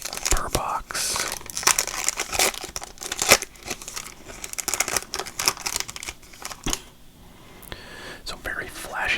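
Foil wrappers on 2019 Status basketball card packs are torn and crinkled open close up, with a sharp rip and crackle of wrapper among soft whispering throughout.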